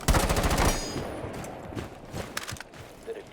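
Gunfire in a shooting video game, a rapid burst of sharp cracks at the start followed by a few scattered fainter shots and rumble, close and loud.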